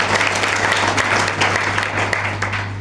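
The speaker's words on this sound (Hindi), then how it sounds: "ताली बजा दो भाई के लिए।" A congregation at a Sunday church service claps together in steady, dense applause that fills the room, continuous and fairly loud throughout with no pauses or talking.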